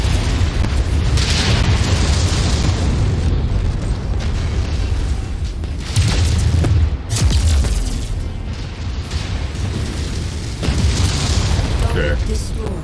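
Weapons fire and heavy explosions in a mech combat video game as a Panther mech is destroyed, with dense, continuous booming blasts rolling throughout and swelling in bursts.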